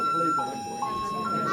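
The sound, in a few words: fire alarm sounding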